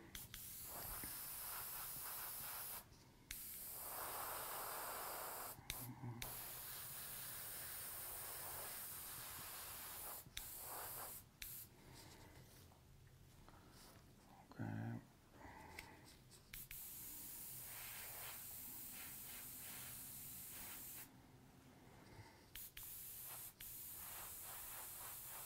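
An airbrush sprays Caribbean Blue candy paint from Wicked Colors onto a scale model bike, a close steady hiss in long bursts broken by short pauses and faint clicks, with no talk.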